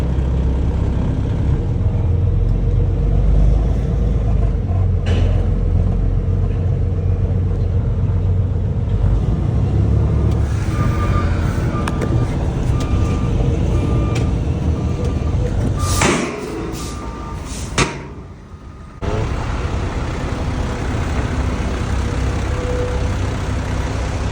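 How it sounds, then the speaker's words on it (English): Heavy trucks rumble steadily close by at a dirt hauling site, a low continuous engine drone with brief surges and a short dip, while voices talk over it. "Trucks."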